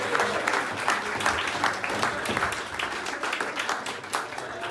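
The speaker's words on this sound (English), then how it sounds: "Round of applause for Matthew P." A wedding audience applauds for Matthew, giving dense, lively clapping that keeps going at a fairly loud level throughout, with some crowd murmur mixed into the hands.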